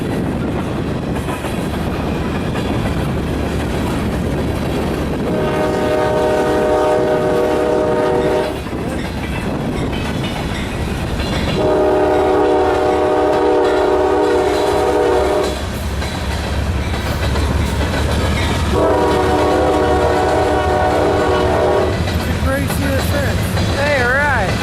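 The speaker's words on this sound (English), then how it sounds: "F Tower then sent another CSX freight onto the Columbus subdivision heading" A CSX freight train rolls by on the Columbus subdivision, its horn sounding three long blasts over the steady rumble and clatter of wheels on rails, loud and close, with people talking in the background.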